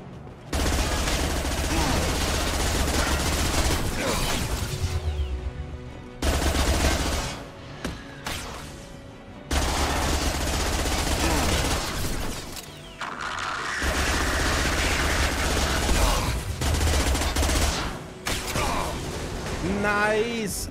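Sustained automatic gunfire in Mass Effect Legendary Edition, loud and close, coming in long bursts separated by short pauses, with a voice talking over the combat.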